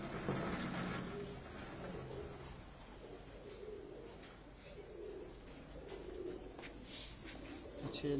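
Domestic pigeons coo softly and low in the background, mixed into a steady wash of outdoor noise with occasional faint clicks.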